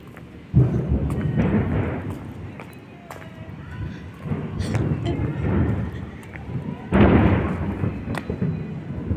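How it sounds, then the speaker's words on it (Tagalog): Several loud booming bursts of New Year 2025 fireworks, some near and some farther off, with people talking over them. "Lamang fireworks."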